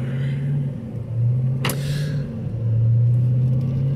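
Repairable salvage 2018 Jeep Grand Cherokee Trackhawk with a freshly rebuilt engine driving on the road, a loud steady engine drone that swells as it picks up speed, with one sharp brief click midway.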